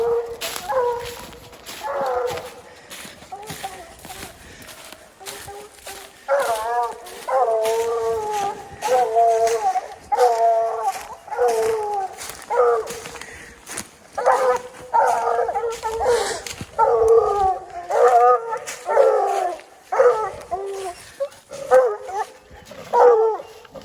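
Coon hounds bay and howl at a treed raccoon during a night hunt, a steady chorus of long drawn-out bawls and barks from several dogs, loud and close, running continuously with no one talking.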